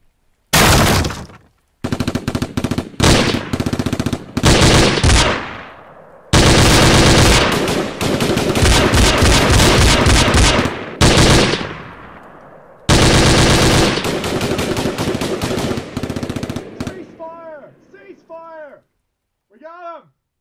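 Repeated bursts of automatic gunfire and single shots in a staged police hostage scenario, loud and near, coming in long rapid volleys separated by brief pauses and ending in faint scattered pops.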